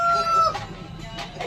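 Roosters being readied for Sankranti cockfights give loud, close crowing and clucking calls, a prominent call at the start followed by a couple of shorter bursts.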